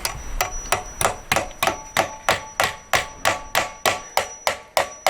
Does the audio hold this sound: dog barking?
no